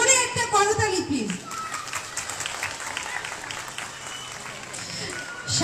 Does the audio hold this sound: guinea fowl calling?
no